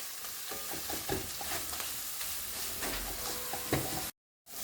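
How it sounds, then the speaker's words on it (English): Fish curry cooking in a pan on medium heat, a continuous close sizzle with scattered stirring scrapes and clicks, steady and moderately loud, cutting off abruptly to silence near the end. "So just let that cook for another minute or so on medium heat."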